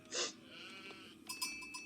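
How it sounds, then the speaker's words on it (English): Sheep bleating in the Age of Empires 4 strategy game, a short nasal bleat near the start followed by fainter ambient game sounds and light chiming clicks, with no talk. "We see sheep back here."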